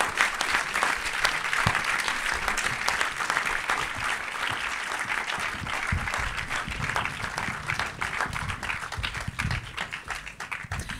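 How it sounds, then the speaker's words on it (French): An audience at a series festival screening in Cannes applauds the cast, a full crowd clapping steadily and loudly throughout, with a few stronger claps standing out. "merci de faire un tonnerre d'applaudissements à Camille Cotin"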